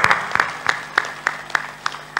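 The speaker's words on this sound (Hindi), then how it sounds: "ताली बजा सकते" Audience applause at a spiritual discourse program: a short run of steady, rhythmic claps, evenly spaced and fairly close, with no talking.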